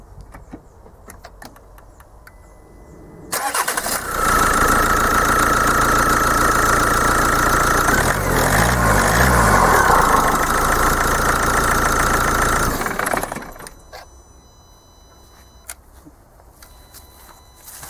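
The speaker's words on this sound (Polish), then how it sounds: "pokażę Wam najpierw pracę silnika po zapaleniu w tym momencie, bez niczego" A diesel car engine with a Bosch CP common-rail pump, suspected of pressure-valve trouble and knocking, cranks and fires, then idles loudly and steadily for about ten seconds with a faint tapping before shutting off.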